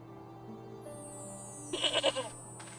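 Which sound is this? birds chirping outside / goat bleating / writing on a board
goat bleating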